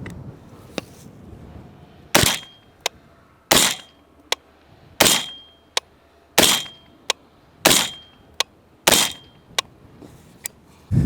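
Six sharp suppressed rifle shots from a 10.5-inch AR upper fitted with a Huxwrx 556K suppressor, loud and spaced roughly a second or so apart, each with a brief decaying tail, plus a few smaller clicks in between.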